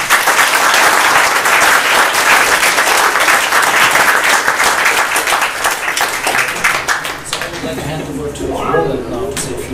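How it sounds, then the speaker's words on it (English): Conference summit crowd gives loud, full applause for all the speakers at the closing session, a thick, continuous roar of clapping that tapers near the end as a voice begins speaking. "A round of applause for all the speakers."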